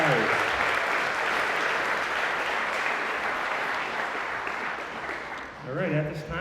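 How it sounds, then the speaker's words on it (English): Sustained audience applause fills a school moving-up ceremony honoring sixth grade teachers and award-winning students, a steady dense clapping that dips near the end as a voice begins to speak. "One more round of applause for our 6th grade teachers and our students getting awards."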